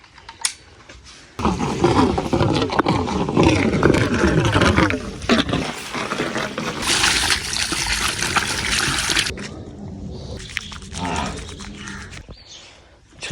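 Water overflowing from a household tank and running into a drain, a loud continuous gushing rush that lasts most of the stretch before easing into a quieter trickle.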